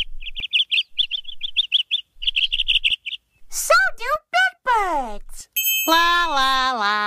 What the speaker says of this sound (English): Little birds make music.